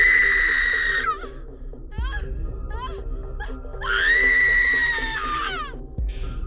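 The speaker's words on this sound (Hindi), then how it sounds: "उसकी चीखें रात के सन्नाटे को चीरती रहीं।" A woman screams in a Hindi horror story about being burned alive, two long, loud, high wailing shrieks with wavering pitch, separated by a lower moan, over a dark droning background.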